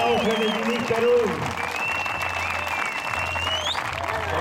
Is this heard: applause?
yes